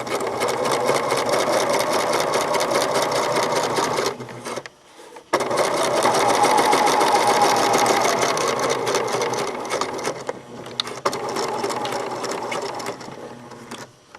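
A sewing machine top-stitches along an exposed zipper, running in a steady, loud mechanical whir that stops briefly near the middle before resuming for the rest of the stretch.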